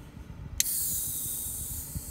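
A Coca-Cola Oreo Fizzy Cookie flavor can pops open inside a car with a sharp crack, followed by a sustained fizzing hiss of carbonation that continues steadily to the end.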